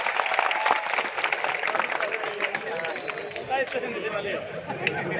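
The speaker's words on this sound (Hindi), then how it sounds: "जरा जोरदार तालियां बजा दें एक बार आप।" Sustained applause from a crowd at a Hindi poetry gathering in Malpura fills the space, dense clapping with murmuring voices mixed in.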